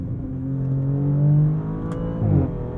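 A 2023 Audi S6's twin-turbo V6 pulls hard, a smooth, close engine drone rising and swelling in pitch through a couple of seconds of acceleration, with a slight dip and fresh surge near the end.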